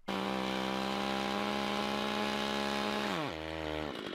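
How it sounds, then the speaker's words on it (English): A running chainsaw being jammed by protective chainsaw chaps: a loud, steady engine drone that abruptly drops in pitch and bogs down near the end. "Chainsaw chaps offer protection by immediately stopping the chainsaw."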